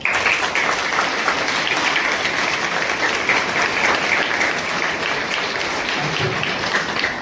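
Audience at a school event at Hosur Public School breaks into a steady, dense round of applause that fills the whole stretch at even loudness, many hands clapping together close by.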